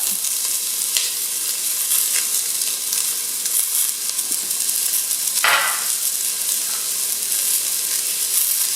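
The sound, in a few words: onions and garlic frying in a heated pan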